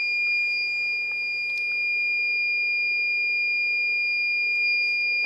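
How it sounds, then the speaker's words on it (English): A Straight Talk Remote Alert Kit alarm sounds indoors as a loud, piercing, continuous high-pitched electronic tone that holds steady throughout, with no talking. "that beep right there has basically set the alarm off"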